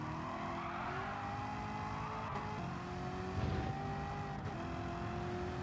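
Chevrolet Corvette C7 ZR1 in a racing video game, a steady sustained engine drone held at high revs with a brief shift in pitch midway and faint tyre noise, no talking.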